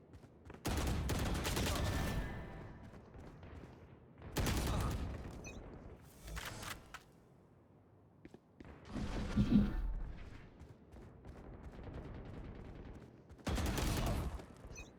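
Gunfire in a shooting video game comes as several separate loud bursts of rapid shots, with short quieter gaps between them. A voice talks faintly in the background.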